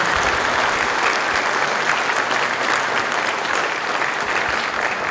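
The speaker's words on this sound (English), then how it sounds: "nice round of applause one more time for our honor guard and our fighting drums" A crowd at a police chief change of command ceremony applauds the honor guard and drum corps, a loud, continuous roar of clapping that fills the whole stretch at an even level.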